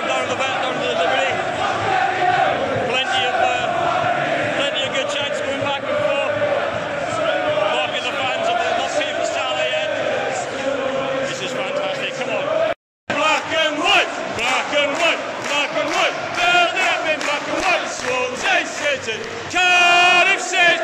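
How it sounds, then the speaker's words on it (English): A full football crowd at the Swansea v Cardiff derby at the Liberty Stadium chants and sings loudly and continuously, a dense roar of many voices with rhythmic surges and a brief cut near the middle. "It's nice to see a full crowd down at the vet, down at the Liberty."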